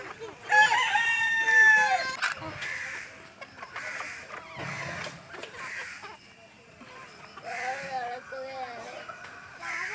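A young rooster crows loudly and close, followed by hens clucking and calling among a flock of poultry, with more drawn-out crowing later and a voice speaking faintly in between.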